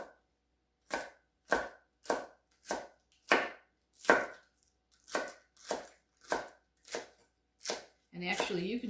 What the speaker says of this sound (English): So you just kind of use your knife, cut it in half just at the top so that when you slice it,